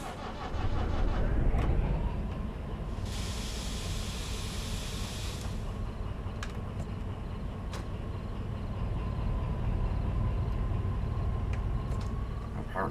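In the train simulator Derail Valley, a DE6 diesel locomotive runs with a broad, steady engine rumble and hiss, a burst of brighter hissing air midway and faint clicks, continuous throughout.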